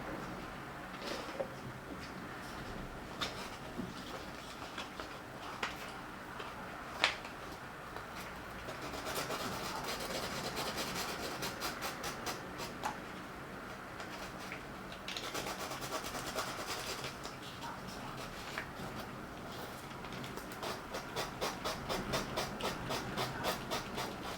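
Steady rasping scrapes of sandpaper rubbing back and forth on carved styrofoam, close and fairly quiet, with a few sharper knocks along the way.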